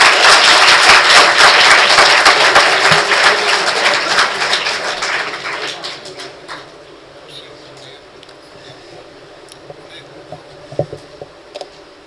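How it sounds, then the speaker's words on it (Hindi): Lecture-hall audience breaks into loud dense clapping that fades over about six seconds into a quiet room, with a few scattered claps and small noises trailing after. "बजा लो भाई, ताली बजा लो।"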